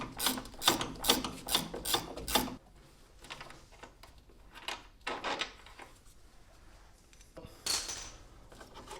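Ratchet wrench loosening a control arm bolt on an Audi B5 S4: a quick run of sharp, close clicks, then sparser metallic taps and scrapes as the bolt is worked out.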